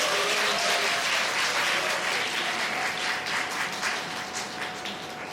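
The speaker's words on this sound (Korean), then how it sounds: "큰 박수 부탁드립니다." Audience applause from a crowd at a Korean sales case presentation contest, steady dense clapping that holds loud throughout and tapers only slightly toward the end, with no talking over it.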